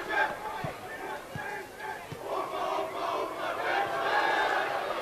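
Spectators in the stands at a soccer championship match chant and shout together in a sustained roar that echoes around the stadium, with rhythmic clapping or stomping beneath.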